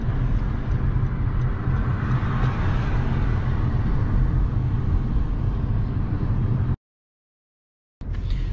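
Steady interior rumble of a car driving on a road during a road test in Ontario, a constant engine and tire drone that cuts out briefly near the end.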